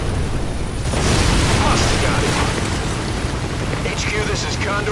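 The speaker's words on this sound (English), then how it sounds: "explosion." Loud, sustained explosion roar in the video game X-Men Origins: Wolverine, a dense broadband rumble that swells in the first second and holds for several seconds with crackling debris, under faint background game voices.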